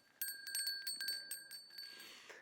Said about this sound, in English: That's my bear bell.